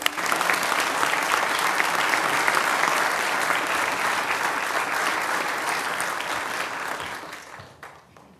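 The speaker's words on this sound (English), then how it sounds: "Give them all a round of applause." A large audience at a city council meeting applauds players and coaches, a dense, sustained wash of clapping that stays strong for several seconds before tapering off near the end.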